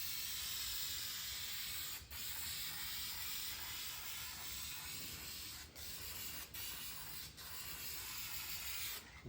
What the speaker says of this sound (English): This can's starting to sputter a little bit, and you'll see it in the paint.